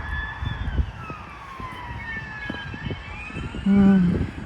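A police car siren wails outdoors during an evening walk, a clear rising and falling tone that sweeps past at moderate distance, fading away, followed by a brief louder thump close by.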